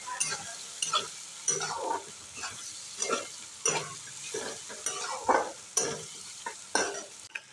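Turmeric and coriander-cumin powder being sautéed in a pan for butter pav bhaji: a spoon scrapes and stirs in regular strokes roughly every second over a faint sizzle, close and alone.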